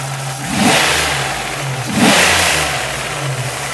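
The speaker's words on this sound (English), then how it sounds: "Turns out one of the rockers are actually hitting the valve cover." A Chevrolet Lumina engine revving twice at close range, each swell rising and falling over a steady idle hum, with an underlying mechanical tapping from a rocker arm striking the valve cover.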